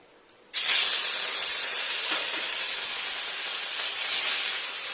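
Fish pieces drop into hot oil on a tawa with a sudden loud burst of frying hiss, which holds as a strong, steady sizzle close by, with no talking.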